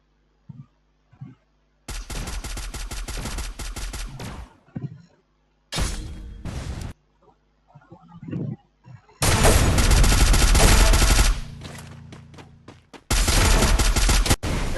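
Gunfire in the Free Fire battle-royale video game, with several long automatic bursts and rapid rifle volleys that start and stop abruptly, loud and close, separated by short quiet gaps and faint scattered shots.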